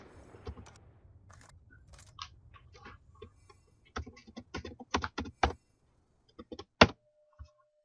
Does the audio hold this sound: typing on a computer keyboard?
yes